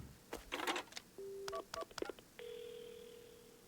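Someone dials a payphone to call an ambulance in the video game PARANORMASIGHT: a handset clatters, several quick DTMF keypad beeps follow, then a steady dial or ring tone holds to the end.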